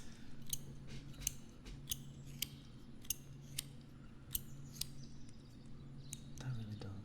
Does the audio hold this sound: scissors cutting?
yes